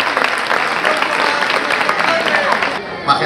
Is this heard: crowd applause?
yes